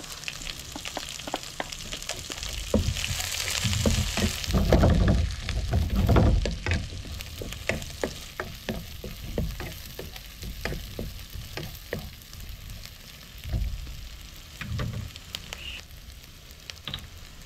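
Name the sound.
onions frying in a pan for beef bistek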